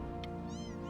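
A cat in the video game Before Your Eyes gives a short meow over a steady background of game music.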